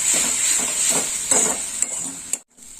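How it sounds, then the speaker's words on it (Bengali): Cumin powder and spices sautéing in a pan for a Bengali fish curry, with a steady close sizzle and soft spoon scrapes, a few sharper clinks near the end before a brief gap. "জিরে গুঁড়ো নিয়েছি হাফ চামচ দিয়ে দিলাম জিরে গুঁড়ো এবার একটু ভালো করে কষে নেব"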